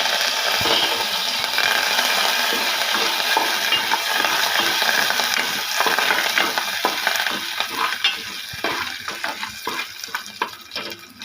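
Frying food is turned and stirred with a spatula in a pan, a loud continuous sizzle running throughout with repeated scraping strokes that grow more distinct toward the end.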